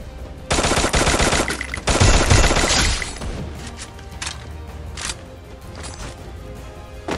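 A Thompson submachine gun firing in a video game: a loud, close burst of rapid automatic fire, then a second burst with shattering, followed by a few lighter scattered shots.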